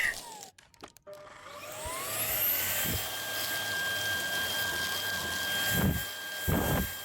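An Erabros EV1 cordless vacuum cleaner runs its rotating brush over a car mat, giving a steady high motor whine and airflow rush, broken by a few brief scraping bumps as the head moves.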